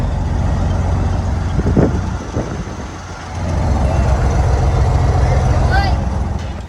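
A large truck crossing a small farm bridge, its engine a steady close rumble that dips briefly midway, then swells back to a loud, continuous drone.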